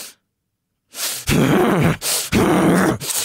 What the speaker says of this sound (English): That kind of forced, deep, stressful breathing that shocks the body is a guff huff.